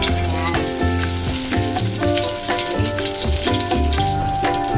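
Cooking oil sizzles and fries in a pan while Chicken and Pork Menudo is being made, a loud, continuous crackle with repeated bursts as ingredients are stirred, close up and without talk.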